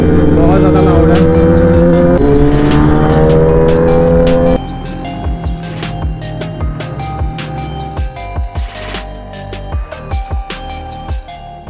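Two very loud Kawasaki ZX10R superbikes ride past near Rishikesh. A harsh, high-revving engine roar holds for several seconds, then drops to quieter, uneven revs and pops as they move away.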